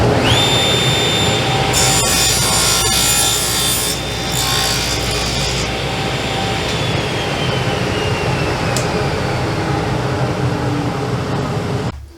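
A table saw with a crosscut sled makes the last cut through wood, a loud, continuous motor whine and blade drone with a rising pitch as the cut finishes, then winding down at the end.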